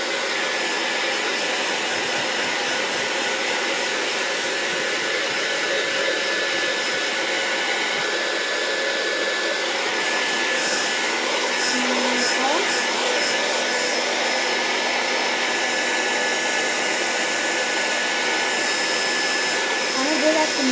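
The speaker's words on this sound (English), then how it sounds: "Gonna blow dry it for a little while." A hair dryer blows steadily over a sheet of homemade paper, a loud continuous broadband whoosh that holds for about twenty seconds with no talking.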